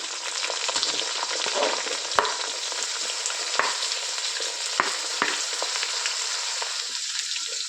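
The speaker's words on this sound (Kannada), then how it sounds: "ಇವು ನೀಟಾಗೆಲ್ಲ ಫ್ರೈ ಆಗಲಿ." Ingredients sizzle in a hot pan, a steady close frying hiss broken by occasional sharp pops and clinks of stirring.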